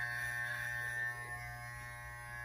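Electric clippers trimming a man's beard above the lip hum steadily at close range, a constant buzzing drone with a brief dip midway and no talking.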